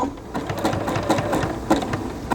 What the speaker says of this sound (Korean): 이제 요거 돌아가는 속도에 맞춰서 바느질을 천천히 하시면